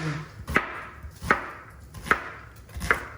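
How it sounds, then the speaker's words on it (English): A sharp knife cutting and dicing on a board, four crisp chops spaced evenly about three-quarters of a second apart, close and clear. "All we're doing here is getting a sharp knife, and we're cutting and dicing"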